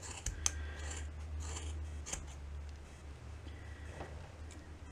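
Scissors snip through the yarn loops of a handmade pom-pom, a few sharp close cuts near the start and middle, then softer fainter snipping against a low steady hum, with no speech.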